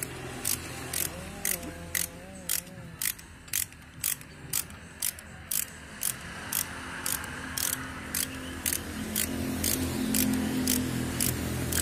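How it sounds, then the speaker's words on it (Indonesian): Ratchet wrench clicking in a steady series of sharp, evenly spaced ticks while nuts are tightened on a Colt diesel truck driveshaft, close and distinct over a low workshop hum. "Lalu dikencangi dengan kunci."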